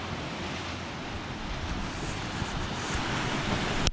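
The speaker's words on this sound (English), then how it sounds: "Some waves crashing against the rocks." Rough sea surf breaking against rocks along the shore at Palmanova–Son Caliu, heard as a steady, loud wash of broadband water noise with some wind rumble, continuous for the whole stretch with no talking.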